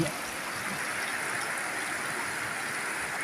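Heavy rain pours down steadily alongside flowing water, forming a dense, even wash of noise that stays constant throughout, close and loud, with no voices.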